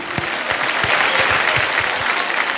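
A large crowd at an IIFA awards show breaks into loud applause, sustained and dense, with occasional stronger claps rising out of the steady roar.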